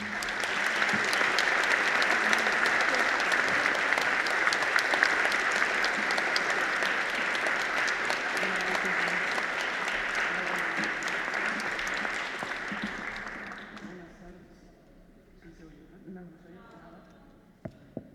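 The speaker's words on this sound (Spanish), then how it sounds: "les pido un fuerte aplauso para darles la bienvenida" Audience applause welcomes the speakers at a book presentation at a Mexico City book fair, a large crowd clapping steadily for about thirteen seconds, then fading to quiet room tone with a couple of knocks at the end.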